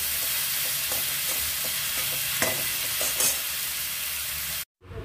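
Spices frying with pui greens and okra in a pan, a steady close sizzle with occasional stirring scrapes, cutting off abruptly near the end.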